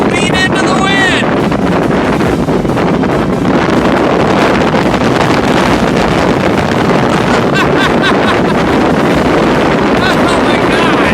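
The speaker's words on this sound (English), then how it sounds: "We have to lean into the wind!" Strong wind roars continuously across the microphone on a fast-moving boat at roughly 30 knots, a loud steady rushing with engine and water noise beneath and excited voices shouting over it.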